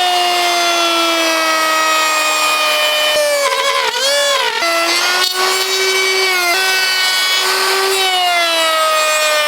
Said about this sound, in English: so I use a handsaw and I just rest it on that surface that's perfectly cut